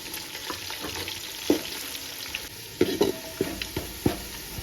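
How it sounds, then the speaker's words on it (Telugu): Onions sizzle in a pan under a constant hiss of frying, with several sharp scrapes and taps of a spatula at irregular moments. "ఉల్లిగడ్డ ఇవి మంచిగా ఫ్రై చేసుకోవాలి"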